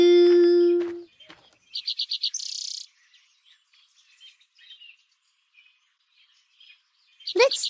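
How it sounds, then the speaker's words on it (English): Cartoon birds chirp in short rapid bursts of quick high trills separated by near silence. A brief sustained tone comes before the chirps, and another burst of chirping comes at the very end. "Let's chirp like those birds."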